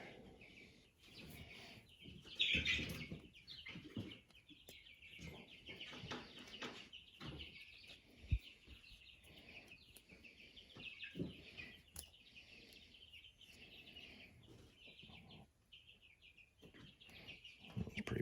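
Birds chirp and call in scattered bursts, some clucking among them, at a moderate distance over a quiet outdoor background.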